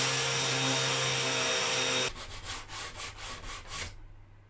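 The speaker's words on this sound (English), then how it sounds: "it will need another sand down anyway" Power sanding on the burnt end of a wooden pizza peel, a steady loud abrasive whir for two seconds, then a quieter stretch of rhythmic back-and-forth rubbing strokes that stop near the end.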